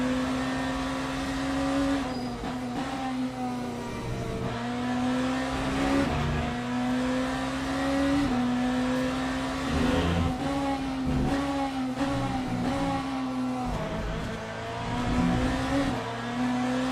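A race car engine from the Le Mans Ultimate sim racing game at Imola drones steadily and loudly throughout, its pitch climbing and dropping as it revs through gears, with no talk over it.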